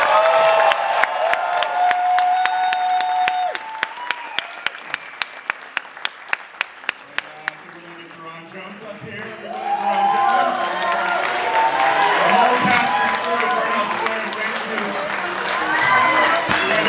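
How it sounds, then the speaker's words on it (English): Audience applause for actor Nick Nolte at a film premiere Q&A, starting with a few steady claps and swelling into loud, full crowd clapping and cheering, with voices mixed in. "Applause for Nick Nolte."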